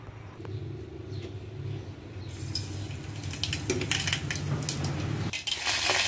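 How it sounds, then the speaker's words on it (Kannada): Mustard seeds hit hot oil in a pot for tamarind rasam. After a quiet start, a bright crackling sputter builds and grows louder, with occasional metal clinks from the utensils. "ಈಗ ಆಯಿಲ್ ಬಿಸಿ ಆಗಿದೆ ಸಾಸಿವೆ ಹಾಕೊಳ್ಳೋಣ"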